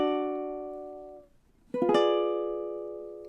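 Ukulele plucking a slow phrase from a Star Wars medley: a sustained chord fading out, a brief pause, then a couple of quick plucked notes ringing on, close and fairly soft.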